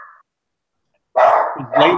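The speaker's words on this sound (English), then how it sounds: "That's my dog." After a moment of silence, a dog indoors at home erupts in two loud, close barks during an online economics class call.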